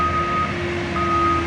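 A truck's reversing beeper sounds in two steady tones over rumbling construction noise on a city street in Washington, D.C., fairly loud and continuous with no talking.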